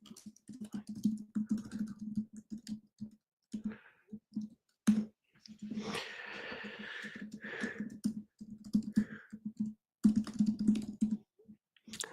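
Rapid clattering keystrokes on a computer keyboard come in uneven bursts and pauses, close and fairly loud, with brief spells of quiet between flurries.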